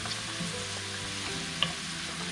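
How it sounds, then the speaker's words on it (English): Onions frying in a pan for bean katogo give off a steady, close sizzle, with a faint stirring scrape and one brief sharp tick near the middle. "you're going to cook your onions until they are golden brown"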